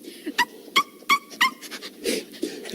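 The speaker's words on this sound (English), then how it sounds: "little Kimmy dog is a very high bark" A small dog gives a quick series of four or five sharp, high-pitched barks, close and fairly loud, followed by a few softer, breathier yips, with no talking.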